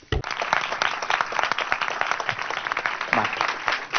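Steady applause from an audience at a design and animation talk, many hands clapping densely for several seconds at an even level.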